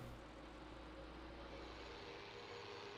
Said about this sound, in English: you may be wondering why we're driving down the road in the tractor